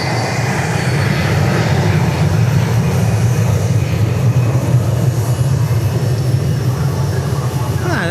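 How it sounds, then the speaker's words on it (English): A Hawker business jet from Mexico rumbles past at Dallas Love Field, a loud, steady, broadband engine roar that holds for several seconds without letting up. "There goes the Hawker from Mexico"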